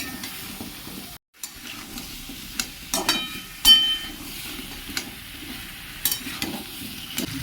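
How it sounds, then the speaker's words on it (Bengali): Ground coriander, cumin and Kashmiri chilli powder being stirred in a hot pan for a papaya and soybean dish, a soft steady sizzle with scattered sharp clinks and scrapes of the spoon and a brief silent gap early on. "কাশ্মীরি লঙ্কার গুঁড়ো ভালো করে মেশাবো"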